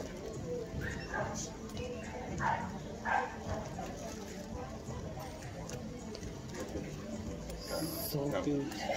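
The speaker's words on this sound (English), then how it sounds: "Real dog." A dog at the MIXT Chatuchak market in Bangkok gives a couple of short barks in the middle distance, partly buried under steady crowd chatter and nearby talking.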